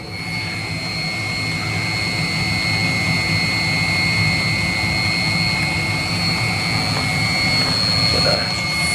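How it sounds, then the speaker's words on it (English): A Kawasaki engine runs steadily while fogging heavily. A loud, constant droning roar with a high whine holds for the whole stretch without a break. "Fogging the Kawasaki quite heavily at the moment, but it is now cleaning up."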